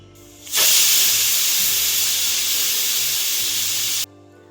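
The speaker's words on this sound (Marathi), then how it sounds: "इथे आता कुकरच्या मी चार शिट्ट्या काढून घेतल्या" A pressure cooker of dal makhani vents steam in one long, loud, steady hiss lasting about three and a half seconds, starting and stopping abruptly, with no talk over it.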